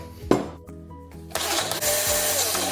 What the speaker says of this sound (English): we're just going to blitz this up in a food processor until it makes a fine puree